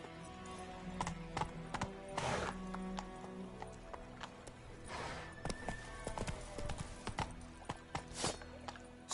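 A horse gallops in Witcher 3, its hoof clip-clops irregular and moderately close, with an occasional snort or whinny and faint background game sound.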